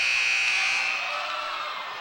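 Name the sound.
basketball game buzzer ending the quarter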